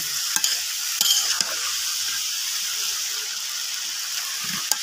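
Vegetables with potato, beans and carrot frying in a pan on a clay stove, stirred with a steady sizzle and hiss and a few sharp scrapes and clinks of the utensil.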